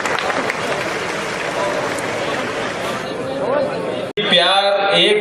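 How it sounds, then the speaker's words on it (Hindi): Loud audience applause at a Hindi poetry gathering (kavi sammelan) in Nimbahera, a dense continuous wash of clapping from a large crowd that breaks off abruptly near the end, followed by a brief burst of other crowd sound. "जोरदार ताली से बुलाएं"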